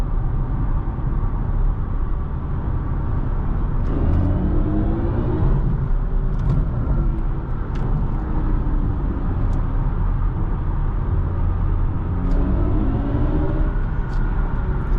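Inside a 2022 BMW i4 M50 electric car under hard acceleration, a steady low road and motor rumble fills the cabin, with faint rising whine sweeps and occasional light clicks, continuous and close with no talking.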